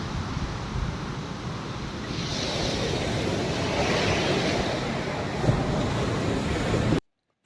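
Ocean surf at Golden Beach in Chennai rushes steadily onshore, a loud, continuous wash of waves with wind buffeting the microphone, cutting off abruptly just before the end.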